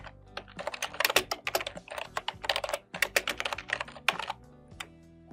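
Rapid, close typing on a computer keyboard while entering text into a spreadsheet cell, with bursts of keystrokes broken by short pauses and one louder key press near the end.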